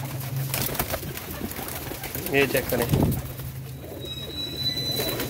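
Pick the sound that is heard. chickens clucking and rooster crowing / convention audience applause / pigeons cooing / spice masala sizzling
pigeons cooing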